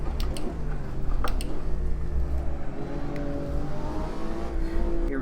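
A Lamborghini Aventador SV in the racing game Assetto Corsa drones steadily at high revs in seventh gear through a long corner, with a couple of brief gear-shift ticks and pitch shifts near the start and no talk.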